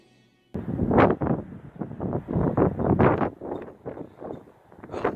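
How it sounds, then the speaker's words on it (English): Strong seaside wind buffets the microphone in loud, surging gusts that rise and fall, roaring steadily with no other sounds coming through. "It's very, very windy"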